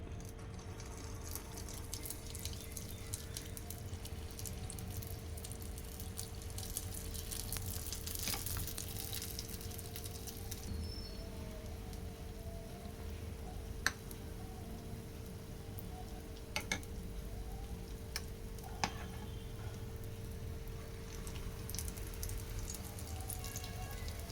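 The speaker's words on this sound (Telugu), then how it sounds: "ఆయిల్ హీట్ అయిన తర్వాత ఇలా వేసేసుకోవాలి" Poornam boorelu, sweet stuffed dumplings, deep fry in hot oil with a dense, even crackling and bubbling that stays steady and fairly soft, with a few sharper pops.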